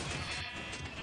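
Sheep bleating in the Minecraft video game, a short dense bleat that fills the whole moment loudly and up close, with no talk over it.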